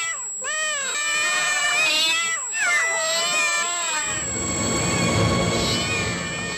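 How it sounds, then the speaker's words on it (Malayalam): Cats meow and yowl repeatedly and close by while a steady high-pitched tone runs underneath, before the cries give way to a rushing, rumbling noise. "ഈ ഹൈ ഫ്രീക്വൻസി ശബ്ദം പൂച്ചകളുടെ സ്വഭാവം എങ്ങനെ മാറ്റുന്നുവെന്ന് കാണാം."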